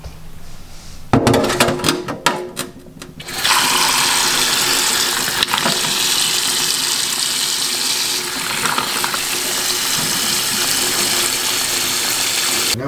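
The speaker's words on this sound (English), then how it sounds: "I'm gonna clean them in cold water for about 5 minutes." Cold running water from a tap pours over mussels being cleaned, a loud continuous gush that follows a few brief clattering knocks and then runs steadily for about ten seconds without any talking.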